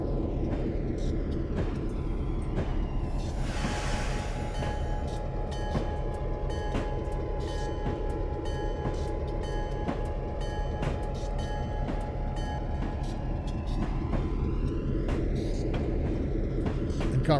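Diesel freight locomotive descending the snowy Feather River Canyon line in Train Simulator 2020, a steady loud engine drone with rumbling wheel noise and track clatter that runs without a break throughout, with no talking.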